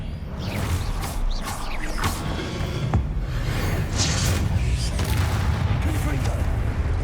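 Spellcasting combat in the Hogwarts Legacy video game, a disarming spell among dense booming impacts, creaks and whooshing magic effects, with a voice talking over the continuous game action.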